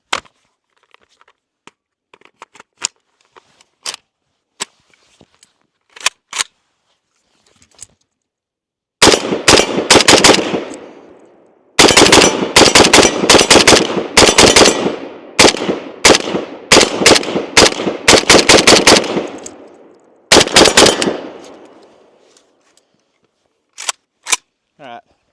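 Zastava RPK machine gun firing outdoors, a few scattered single shots followed by dense loud bursts of rapid fire, then tapering back to isolated shots.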